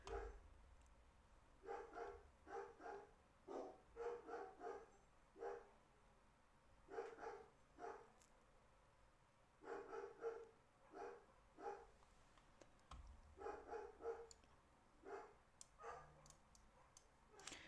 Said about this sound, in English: Yo, these dogs.